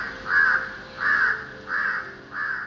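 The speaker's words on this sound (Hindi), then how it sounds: "मेरा दोस्त, माने ये काला कौवा, जिसे मैं द फ्लॉलेस क्रो भी कहता हूं" A black crow caws four times at a window, evenly spaced harsh drawn-out calls, close and loud with a low background hum.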